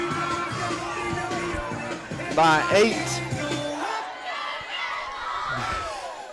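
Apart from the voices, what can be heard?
crowd cheering at Torbert Field football game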